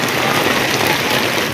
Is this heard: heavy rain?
yes